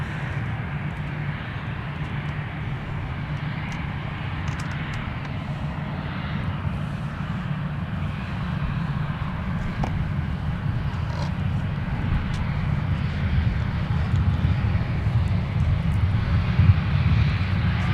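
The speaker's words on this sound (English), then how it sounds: "Delta 160 Heavy now departing for Amsterdam" A Delta Airbus A330 airliner takes off from Minneapolis–St. Paul airport bound for Amsterdam: a steady, heavy engine roar with a deep low rumble that swells gradually louder over the whole stretch, with no talk.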